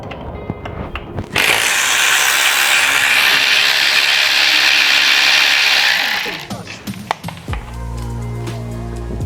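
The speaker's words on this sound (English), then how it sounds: "We're gonna take these out so that this will drop down, and then we have 1 more bolt to remove from underneath." A tool works loose the chain guard bolts on a motorcycle: brief clicks and knocks, then a loud, sustained whirring rattle for several seconds that stops abruptly, followed by scattered metallic clicks and a low hum.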